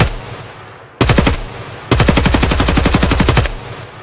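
Automatic gunfire in the video game Escape from Tarkov: a short loud burst of rapid shots, a pause, then a longer sustained burst of evenly spaced close shots that stops abruptly, with no talk.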